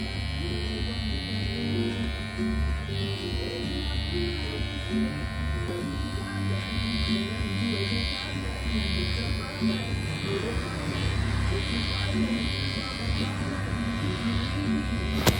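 Electric hair clippers buzz steadily while blending a fade on a haircut, a close, continuous motorized whine with slight pulsing as the blade moves through hair, under a voice talking throughout.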